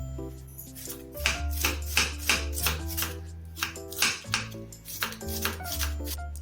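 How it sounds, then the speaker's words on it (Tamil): A knife chops cabbage and cauliflower into small pieces for a roadside-style cauliflower masala, with a steady run of crisp, close cuts on a board over faint background music. "இந்த கேபேஜையும் காலிஃப்ளவரையும் நம்ம வந்து சின்னதாக கட் பண்ணி எடுத்துக்கலாங்க"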